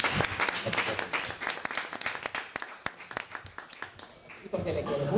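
Audience applause at a Spanish book presentation, a burst of clapping from a modest crowd, close and uneven, that carries on for several seconds.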